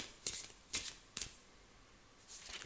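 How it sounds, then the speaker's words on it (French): Tarot cards are shuffled in three quick riffling bursts, close and quiet, followed by a faint rustle near the end, with no talking. "On va mettre d'autres cartes."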